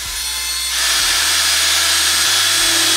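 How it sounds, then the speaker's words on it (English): A power drill drives a screw through a clear acrylic wall calendar into a wooden wall stud, starting after a quiet moment and then grinding steadily and loudly to the end. "Then I'm going to take the screw and put it through this."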